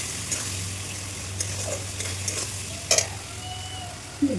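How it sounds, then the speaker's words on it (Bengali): Spice paste with salt, turmeric, garlic and cumin sautéing in a pan: a soft, low sizzle with a few scattered scrapes and clinks of a spoon stirring. No one speaks. "স্বাদ মতো লবণ হলুদ গুঁড়ো আর একটু রসুন আর একটু জিরা বাটা দেবো ভালো করে কষিয়ে নেবো"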